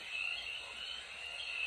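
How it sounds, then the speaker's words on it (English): Frogs croak through a spring night in a dense, steady chorus of high trilling calls, continuous and moderately loud, with no voices over it. "That sound is frogs croaking in the nighttime."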